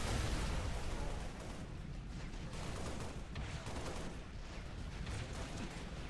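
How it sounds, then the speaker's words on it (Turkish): Dense gunfire from the video game Halo: Reach, played co-op on the Sword Base mission, crackles in a thick, continuous barrage of overlapping shots and blasts with no voices. "Aa, bize ateş ediyor."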